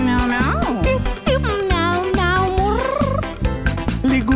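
A sung voice imitates a cat's meow in a children's song, with sliding, drawn-out vocal notes over bouncy backing music, loud and up front.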